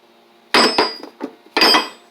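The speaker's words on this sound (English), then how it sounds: "So that's one of my go-to hammers." A heavy homemade hammer, welded from a cut air-hammer chisel bit and weighing about 20 pounds, is handled in a metal toolbox drawer: two loud, close metallic clanks with smaller knocks and rattles between them.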